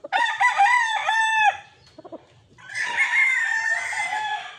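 A broodcock rooster at a gamefarm crows loudly and close, two long cock-a-doodle-doo calls separated by a brief pause with faint clucks.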